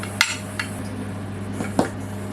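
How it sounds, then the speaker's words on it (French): Bacon lardons and onions for a croziflette being stirred in a pan: a few scattered utensil clinks and scrapes over a steady low background hum. "On va venir mélanger les lardons et les oignons dès que c'est prêt."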